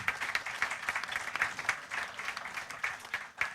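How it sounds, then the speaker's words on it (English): Audience applause at the valedictory function of a food science and technology conference, a steady wash of many hands clapping together throughout, moderately distant and even in level. "Please clap for them."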